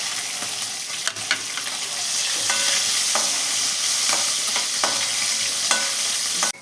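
Green chillies with cumin, garlic and curry leaves frying in hot oil in a pan, a continuous sizzle broken by regular scraping clicks of a stirring spoon, close and loud with no talk.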